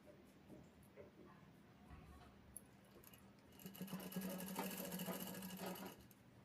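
A sewing machine stitches a side seam on a ready-made dress, a faint whir that builds into a steady close rattling hum for the last couple of seconds after quieter handling sounds.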